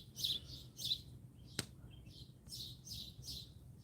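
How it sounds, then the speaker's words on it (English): Small birds chirping outdoors near a firepit, a series of bright repeated tweets in short bursts, fairly close, with a single sharp click midway and no talking. "Listen to the birds."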